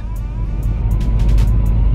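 A slammed, lowered car rolls by close with a loud low engine rumble and road noise, the sound swelling steadily over two seconds.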